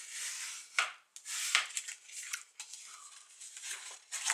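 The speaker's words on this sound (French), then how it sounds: "je vais plier d'abord les deux côtés où il y a les plis" Paper envelope being folded along its creases by hand, a series of crisp rustles, scrapes and soft creasing swipes in irregular bursts, close and fairly quiet with no talking.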